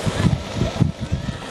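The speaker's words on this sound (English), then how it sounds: "and it's windy" Wind gusting across the microphone outdoors at a sunny kite festival in a park, a steady low rumbling roar with soft swells and no voices.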